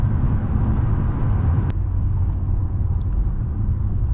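A 2015 Mercedes S550 W222 driving at night, heard as a steady low road and engine rumble from inside the cabin, continuous and unbroken with one brief click partway through.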